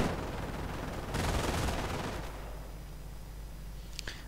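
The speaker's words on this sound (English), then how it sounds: "MG42 rounds flying through the air." MG42 machine gun fire in a World War II video game, a dense rattling burst of rapid shots mixed with battle noise, fairly faint and fading toward the end.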